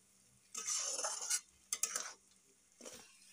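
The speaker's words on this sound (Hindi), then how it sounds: "मैं इसके साथ मसाला को अच्छे से फ्राई कर लूंगी" Masala fries in a pan while a spoon stirs it, making three bursts of close scraping and sizzling with short quiet gaps between them.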